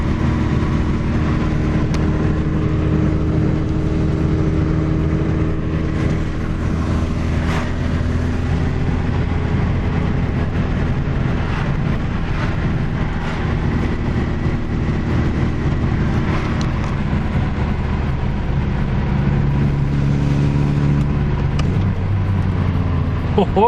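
A VW Corrado G60 drives along just after a brake job, a steady low engine and road rumble running continuously throughout with occasional brief knocks and rattles, no one talking.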